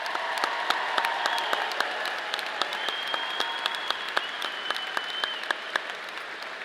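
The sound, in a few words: audience applause for newly commissioned officers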